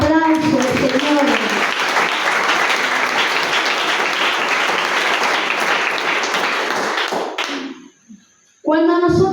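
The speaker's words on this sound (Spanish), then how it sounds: "Gloria a Dios, eso merece un aplauso al Señor." A church congregation applauds loudly and steadily for several seconds, the clapping breaking off near the end as a voice resumes speaking.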